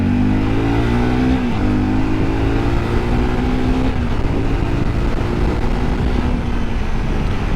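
A Honda CBR 250R motorcycle pulls hard in second gear, its engine note rising steadily under heavy wind noise, with a brief dip around the shift and continuous loud drone, no talk.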